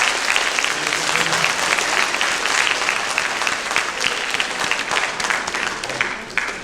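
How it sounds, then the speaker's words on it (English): Sustained audience applause fills a school district alumni awards ceremony, dense steady clapping from a crowd throughout, with a brief spoken remark over it near the start. "Give a clap to yourself."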